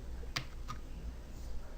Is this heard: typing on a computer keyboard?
yes